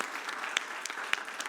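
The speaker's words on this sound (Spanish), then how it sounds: "damos un aplauso a Dios por estos dos jóvenes que se graduaron." A church congregation bursts into brief applause, a close crowd of scattered hand claps over a short stretch.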